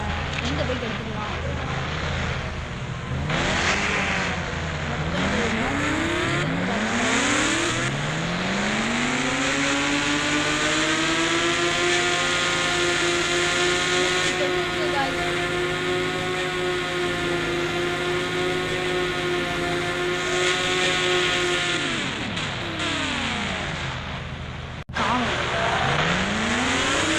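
Motorbike engines rev and race in a video game, rising and falling in long sweeping pitch bends that hold steady through the middle, loud and continuous with a voice talking over them.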